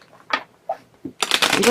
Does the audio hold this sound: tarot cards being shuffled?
yes